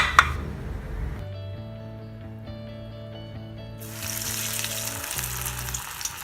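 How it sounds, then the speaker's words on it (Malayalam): Bread-crumb-coated chicken fingers go into hot oil, and a sizzle swells and holds toward the end, over a steady tonal hum in the background. "ചൂടായ എണ്ണയിലേക്ക് ഇത് ഇട്ട് കൊടുക്കാം"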